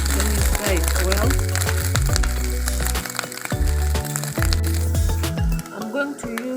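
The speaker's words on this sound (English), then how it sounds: "Let me fry it well." Omena fish fry with a pinch of salt in a Kenyan home kitchen, crackling and sizzling steadily beneath music-like tones and a voice.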